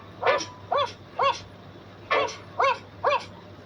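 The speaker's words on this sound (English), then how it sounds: "What sound does a dog make?" A dog barks six times in two clusters of short, evenly spaced yips and woofs, fairly close and clear over a quiet background hum.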